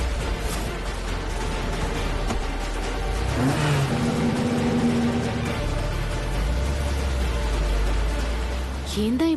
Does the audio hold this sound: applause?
no